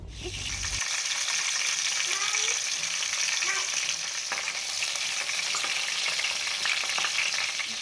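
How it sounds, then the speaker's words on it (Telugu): Green chillies fry in about four tablespoons of hot oil for a fish curry, a steady loud crackling sizzle with small pops and stirring clinks throughout, no talking. "ఆయిల్ కొంచెం హీట్ అయిన తర్వాత పచ్చిమిర్చిని వేసేసుకున్నాము"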